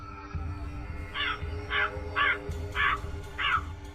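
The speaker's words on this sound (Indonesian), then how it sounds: "Terdengar suara burung gagak berterbangan seakan mengelilingi rumahnya." Several crows caw around a house at night, five loud harsh calls in a steady rhythm over a low constant hum.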